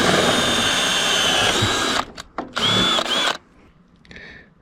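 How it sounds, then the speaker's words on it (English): A power drill with a hole saw cuts through PVC pipe on a DIY trailer, a loud, steady whining grind for about two seconds, then short bursts as the bit catches and stops, followed by quieter handling. "we've got our hole saw."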